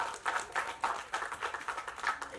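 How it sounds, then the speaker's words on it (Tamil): An audience claps at a movie pre-release event for the film Thookudurai, a steady patter of many hands heard from a moderate distance, rising and falling in soft waves without speech. "தயவு செஞ்சு நீங்களே ஒரு தடவை கைத்தட்டிங்க"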